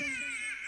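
A baby cries in a short, wailing burst during a Ramlila stage performance. The cry is close and fairly loud, lasting under a second.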